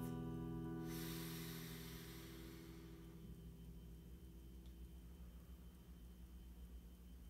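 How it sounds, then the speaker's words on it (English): A single deep, slow breath, drawn in with a loud airy hiss that fades into a softer, quieter exhale. "Let's breathe a breath."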